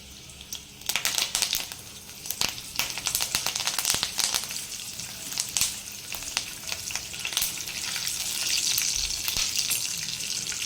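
Curry leaves and green chillies crackle and sizzle loudly in hot oil for a snack of puffed rice with peanuts, with sharp popping bursts over a steady frying hiss throughout.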